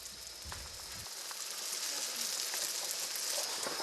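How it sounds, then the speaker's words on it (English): Bread frying in a pan at a Turkish farmhouse, a steady soft sizzle with faint crackles and a few clinks early on. "I find an old woman frying bread"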